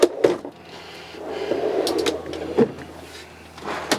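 Drawers in a 2018 Roadtrek RS Adventurous Class B diesel camper van slide open and shut, giving several close thumps and sliding rumbles with brief knocks spread irregularly across a quiet interior.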